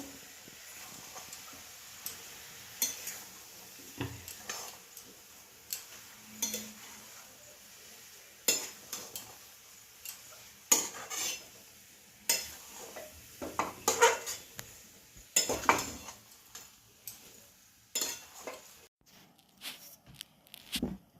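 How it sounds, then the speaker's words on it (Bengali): Puli payesh made with rice flour and nolen gur stirred slowly in a pot: soft scraping and scattered clinks of a spoon against metal, irregular and fairly quiet, with no talking. "আস্তে আস্তে নেড়ে নেড়ে পাকটা করব।"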